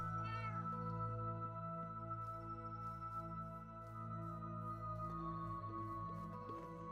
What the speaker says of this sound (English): That would explain the meowing.